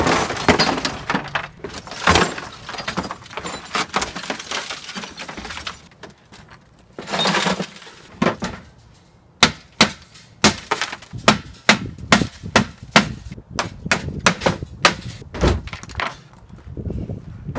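An old CRT television being smashed, with loud heavy impacts, cracking and breaking glass, first in dense bursts and then as a rapid series of sharp separate blows, close and without talk.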